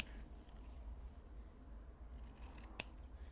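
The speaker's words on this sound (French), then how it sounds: "N'oublie pas de dégarnir les petits coins en faisant attention à ne pas couper ton fil." Scissors trim the fabric corners of sewn washable wipes, with a single quiet, crisp snip standing out near the end over a soft, steady room hum.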